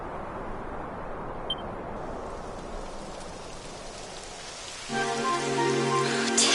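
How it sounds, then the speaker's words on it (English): Steady rain hiss pours down throughout a Dragon Quest XI game scene, even and close, with faint beeps and a tonal game music chord rising in near the end. "It would have to go and start raining, wouldn't it?"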